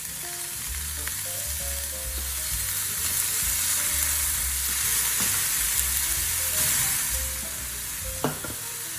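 Fifty grams of ground beef frying over medium heat in a well-heated pan with a little vegetable oil, a loud continuous sizzle with occasional stirring scrapes, close and steady throughout, no voices.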